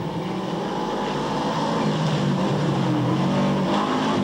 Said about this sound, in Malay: peserta nombor 12 Kelvin Chong yang memandu Pro 2 kancil